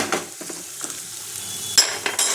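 Mutton kala bhuna masala with grated ginger and garlic sizzles and fries in a pan while a utensil stirs and scrapes through it, close and steady, with a few sharper clinks near the end.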